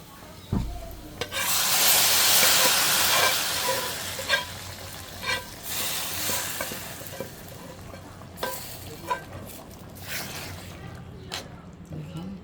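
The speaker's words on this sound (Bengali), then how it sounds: "পেঁয়াজ কুচি আর রসুন কুচি দিয়ে দিচ্ছি দিব জিরা গোটা এটা আমি লাল লাল করে ভেজে নিব" Chopped onion, garlic and whole cumin seeds fry in a pan, a loud sizzle when they go in, then a quieter crackle broken by repeated scraping stirs.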